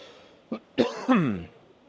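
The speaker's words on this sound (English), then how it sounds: "Excuse me for that cough." A couple of short, dry coughs close to the microphone, followed by a throaty clearing sound, in an otherwise quiet room.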